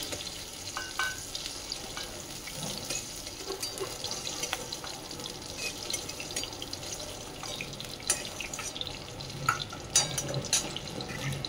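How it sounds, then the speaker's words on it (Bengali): Okra frying in a pan with turmeric and salt, a steady dense sizzle and crackle throughout, with occasional stirring scrapes and small pops close by. "তো এই যে ভেন্ডিগুলো বেশ এরকম করে ভেজে নিচ্ছি"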